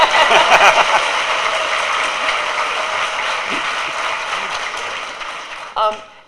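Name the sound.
audience applause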